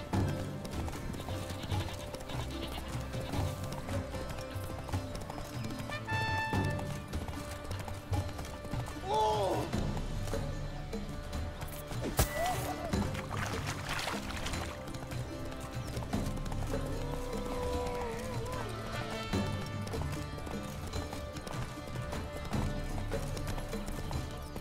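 Horse hooves clip-clop steadily through a Witcher 3 scene, up close and continuous under layered game music and ambience, with brief voice lines and a whinny mixed in.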